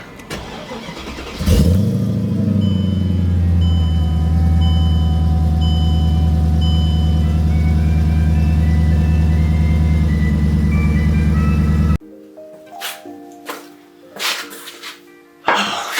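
A Mercedes-Benz car engine starts with a burst, then runs at a loud, steady idle-like drone, followed by quieter scattered knocks and clicks.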